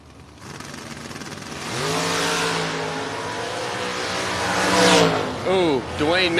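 A Chevrolet-powered ragtop Fox Body Mustang and another car roar at a drag race, engines revving up loudly and sweeping through their gears, with the pitch rising and falling over the last seconds.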